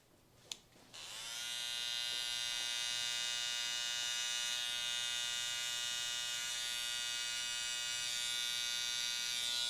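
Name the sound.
beard liner trimmer buzzing while shaping a beard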